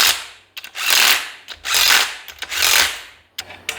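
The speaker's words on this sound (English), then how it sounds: "Then I'm gonna tighten them up with the torque wrench." Ratcheting torque wrench clicking in three sustained bursts while bolts are tightened on a Ford Fairmont engine, close and loud with brief pauses between runs.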